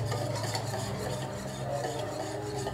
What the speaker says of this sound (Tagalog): beat po natin maigi yung ating egg yolk